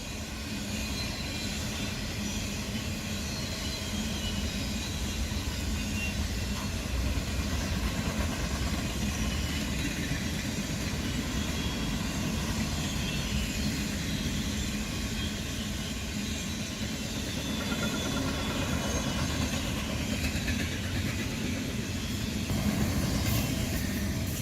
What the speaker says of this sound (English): ES44AC number 8168 is pulling intermodal 212 with 4002, one of the DC to AC diesels painted in the special livery.